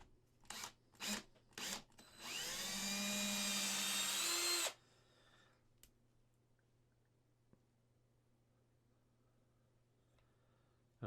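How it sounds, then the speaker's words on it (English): A power drill bores into a resin model kit part while pinning, a sustained whining grind of about two and a half seconds after a few short bursts, close and clear, then quiet. "So we're gonna take our drill"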